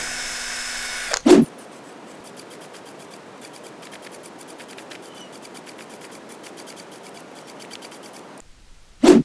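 A small drill with a 1/16 inch bit whirring steadily for several seconds between two sharp clicks, drilling small holes for a porcupine toothpick holder, with faint rapid ticking through the run.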